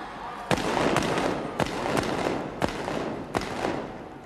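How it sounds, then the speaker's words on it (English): Royal Navy field gun fired repeatedly at the 1988 Field Gun Competition, five sharp loud blank-charge bangs at roughly even intervals over a steady roaring crowd in a large arena. "Fire the gun."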